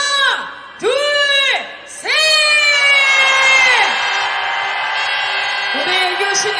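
A crowd at a street rally in Korea shouts together in loud, sustained cheers, with several rising whoops that swell and hold before fading into a continuing roar of voices.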